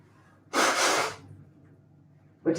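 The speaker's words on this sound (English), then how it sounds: "Blow my nose again." A person blows their nose during a yoga class, one forceful close-up honk of about half a second, a quiet pause, then the start of a second blow.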